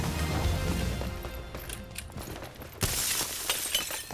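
Glass shatters in the video game Rogue Company, a sharp breaking crash amid game noise, with a fresh burst of tinkling debris near the end.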